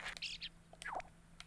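A chirpy bird sound effect from the building game LittleBigPlanet 3, heard as a few short high tweets and a falling whistled call spread across a brief moment, fairly close and fairly quiet.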